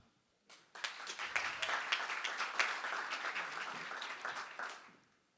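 Applause from a pitch competition audience bursts in after a brief pause, holds as a full, even wash of clapping for several seconds, then tapers off.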